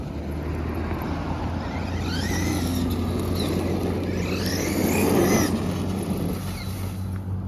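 A Traxxas E-Revo 2.0 RC car with a sagging, squatting rear end drives over rough ground, its electric motor whine rising in two bursts over steady rumbling tyre and chassis noise.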